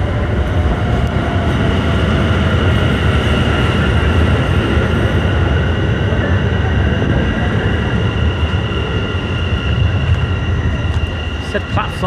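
A train rumbles steadily at an Amsterdam station at night, a continuous loud roar with rattling carriages filling the whole stretch, while people talk faintly beneath it.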